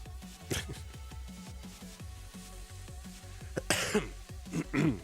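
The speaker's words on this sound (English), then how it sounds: "Sometimes the coughs sneak up on me." A player coughs and clears his throat several times in quick succession, close and fairly loud, amid quiet background tones during a classic Tetris match.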